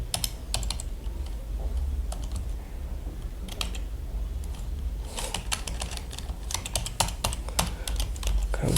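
Keystrokes on a computer keyboard typing a web search, irregular bursts of clicks close by over steady low room hum, with pauses between words.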